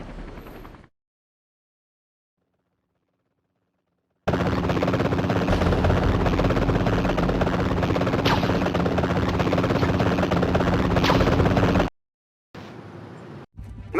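Black helicopter in the Spider-Man 3 PSP video game, a loud steady rotor roar with gunfire-like bursts, running continuously for several seconds between brief silent gaps, with no talk over it.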